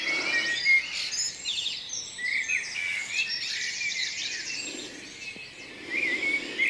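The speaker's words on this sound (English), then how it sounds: "Hey, listen to the birds." A dense dawn chorus of birdsong in the countryside, many chirps and trills overlapping continuously at moderate volume, with no voices.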